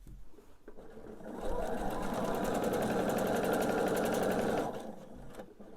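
A sewing machine stitches a quilt top in one steady run of rapid needle chatter lasting about three seconds, close and even, with quieter handling sounds before and after.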